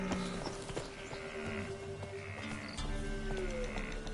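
Roach, the horse in The Witcher 3: Wild Hunt Enhanced Edition on PS5, gallops with steady clip-clop hoofbeats under ambient game sound, fairly close and moderate in volume.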